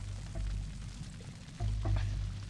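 A low, steady sizzling burn sounds in the video game Blood: Fresh Supply, a soft crackling hiss with a couple of swells in loudness, faint and unbroken.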